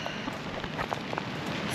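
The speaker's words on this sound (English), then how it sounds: "Well, it started to rain again, so we need to head back." Rain falling outdoors near Lennox Head, a close, steady patter of drops striking surfaces, with scattered sharper individual drip taps throughout and no voices.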